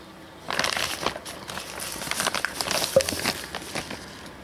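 An orange plastic bag holding a gift of jam and an orange is handled and crinkled, giving a continuous close crackling rustle for several seconds with no speech.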